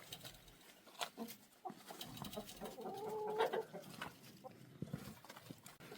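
Chickens clucking and fussing close by, with irregular scratching and rustling around them and no talk.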